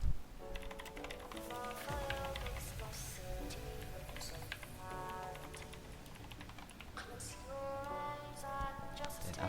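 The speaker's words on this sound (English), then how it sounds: "then type this code" A command being typed on a computer keyboard, a quick run of close, crisp key clicks and taps in an irregular rhythm, fairly quiet and continuing throughout.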